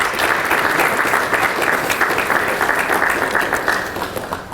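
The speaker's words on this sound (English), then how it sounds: "How about another round of applause for our students?" An audience at a junior leadership summit applauds students with dense, sustained clapping that holds steady and then begins to thin toward the end.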